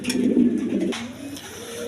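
Caged pairs of pigeons at a market stall coo loudly and close, one throaty rolling call swelling and breaking off before a softer continuation, no talking over it.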